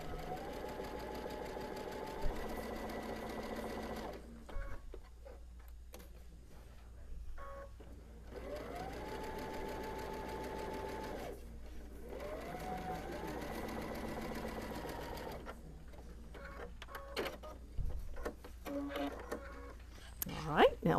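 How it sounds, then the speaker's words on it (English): A sewing machine top-stitches a giant Christmas stocking, running in several steady whirring bursts separated by pauses, with soft clicks and handling sounds. "sometimes we top stitch with different colors, so that makes it kind of nice"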